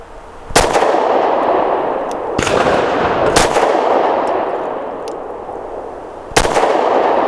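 A Taurus GX4 pistol with a ported barrel fires Callaway Ballistics 115 grain TMJ rounds, four sharp, loud, close shots spaced irregularly, each followed by a brief ringing echo outdoors.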